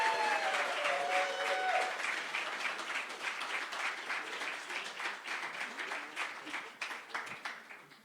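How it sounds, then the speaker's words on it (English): Audience applause fills a church celebration service as a woman is welcomed to speak, a dense, steady clapping from a sizeable crowd that stays loud throughout, with a brief voice near the start. "let's clap for her and give her a warm welcome"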